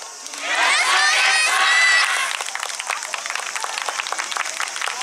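Crowd of spectators cheering and shouting at a yosakoi dance festival stage in Asaka, loud and sustained for about two seconds before settling into a busier, lower hubbub of scattered voices.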